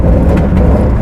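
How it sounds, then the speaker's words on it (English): A loud, rumbling 1969 Ford Mustang V8 engine idles nearby with a deep, steady growl and no voices. "Now just listen to this engine."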